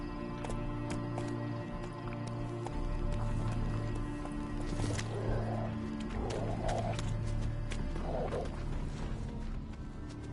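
Roach, a horse in The Witcher 3, gallops with a steady rhythmic clip-clop of hooves under a continuous low rumble, with brief snorts and occasional sharp clinks of tack.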